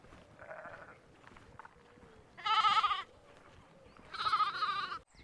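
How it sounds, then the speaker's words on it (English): A mother sheep and her lambs bleat nearby in the countryside, first one shorter bleat and then two long, loud wavering bleats spaced a couple of seconds apart, over quiet outdoor background. "there's a mother sheep and her little lambs"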